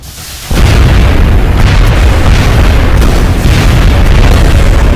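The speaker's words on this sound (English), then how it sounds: "the explosion actually damaged the other sectopod" A sectopod blows up in the XCOM video game with a sudden loud boom that rolls into a sustained, roaring explosion rumble filling the rest of the moment.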